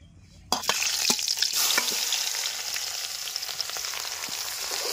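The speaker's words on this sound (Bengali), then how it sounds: "এখন আমরা পেঁয়াজ আদা রসুনগুলো হালকা ভেজে নেবো যাতে কাঁচা গন্ধটা চলে যায়" Onion, ginger and garlic sizzle steadily in a hot pan, a loud continuous fry that starts abruptly, with repeated close scraping knocks of a spoon stirring through it.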